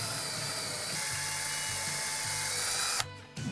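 A power drill whines steadily while boring a hole for flat track hardware through a guide, pitch wobbling as it bites, then stops abruptly near the end, close and loud.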